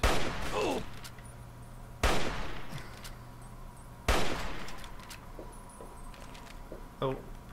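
Three loud gunshot bursts from the video game Fallout 3, roughly two seconds apart, each with a sharp attack and decaying tail, followed by a fainter mechanical clack near the end, with a voice talking between shots.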